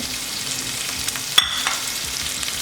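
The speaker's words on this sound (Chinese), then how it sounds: "接下来我们要加切好的小番茄" Chopped cherry tomatoes drop into a pan where shrimp and shrimp heads are frying. A continuous sizzle is broken by one brief sharp splash midway, with no voices.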